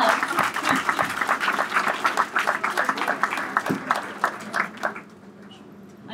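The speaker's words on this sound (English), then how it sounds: "Let's give her another round of applause." A crowd applauds steadily and loudly at an event marking 1,000 pairs of eyeglasses given to children, dense clapping that carries on for several seconds before tapering off near the end.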